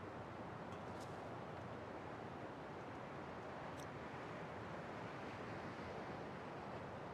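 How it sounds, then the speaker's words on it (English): Ocean waves sleep sound playing from a sunrise alarm clock, a continuous soft wash of surf noise, steady and faint with no distinct breaks, no talking. "the sleep function has a sounds to fall asleep to kind of thing. And yeah, I use the waves."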